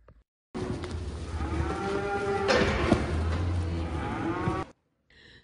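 Dairy cattle released from an automated foot bath moo loudly and repeatedly, with several overlapping calls and low bellows. The sound stays continuous and close for about four seconds, then stops abruptly.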